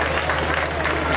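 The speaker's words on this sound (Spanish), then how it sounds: "Fuerte los aplausos entonces para la gente de Chicuana." Applause from the crowd at the closing show of the Carnaval de Antaño in La Merced, a loud, dense wash of clapping and cheering with a low rumble of crowd noise beneath it.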